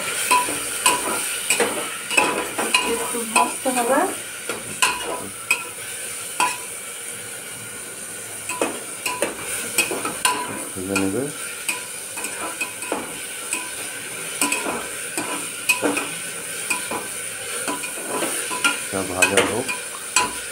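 Masoor lentils fry in a pan while being stirred, with a continuous sizzle broken by repeated scraping strokes and occasional utensil clinks.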